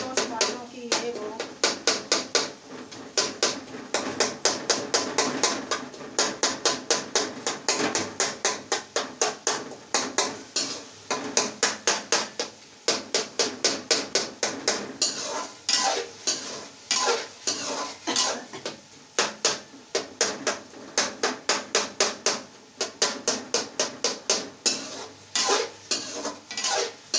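Tomatoes frying in a pot, stirred briskly with a metal spoon that clinks and scrapes against the sides in a fast steady rhythm, with a soft sizzle underneath, close and loud.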